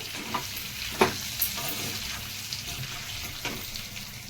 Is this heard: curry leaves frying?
yes